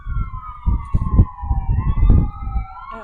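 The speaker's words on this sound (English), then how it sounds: "Let's wait until the ambulance gets by." An ambulance siren wails close by with a steady rising and falling tone as it passes, over rumbling traffic noise, with no talking.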